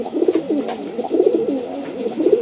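Pigeons on a racing pigeon farm cooing near and steady, with soft repeated throaty coos, alone and with no voices.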